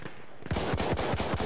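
Automatic gunfire from a gun in the Battlefield 1 video game starts after a short quiet moment and continues as a fast, loud, rhythmic burst of shots that keeps going to the end, with no voices.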